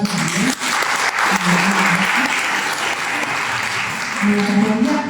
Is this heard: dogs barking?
no